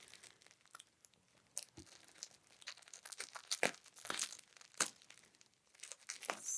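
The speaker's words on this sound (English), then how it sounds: "My scissors are not really sharp enough for this, I'm telling you." Scissors cut through packaging tape on a houseplant shipment, giving faint, irregular snips, crinkles and tearing crunches in short bursts, quiet and close with no talk.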